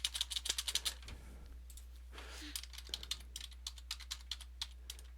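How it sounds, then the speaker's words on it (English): Fingers tap numbers on calculator keys in quick, close clicking bursts, a dense flurry first, then a brief pause and a steadier run of single taps. "Oops, I gotta hit the right keys."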